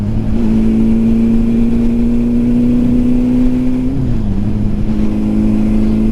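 A Honda CB750 motorcycle engine accelerates, humming at a steady pitch, close and loud, then the tone dips briefly before settling again.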